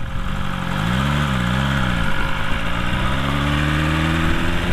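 A BMW S1000RR sportbike engine revs during a wheelie, its rising and falling tones sweeping up and down over a steady roar of wind and riding noise.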